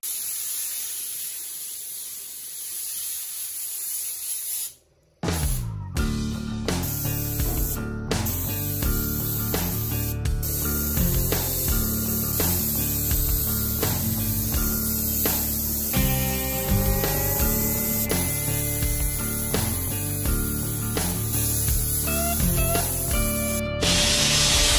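Spray paint hisses steadily and loudly as Dodge D100 Sweptline truck parts such as the steering column are coated satin black. A brief pause early on is followed by a long continuous spray with music underneath.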